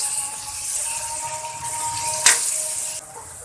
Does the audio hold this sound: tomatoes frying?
yes